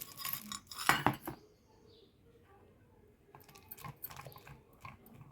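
A spoon clinks against a bowl as Ugadi pachadi is mixed from jaggery, tamarind juice, neem flowers, mango pieces and banana, with a loud scraping burst early on, then softer intermittent clinks close by.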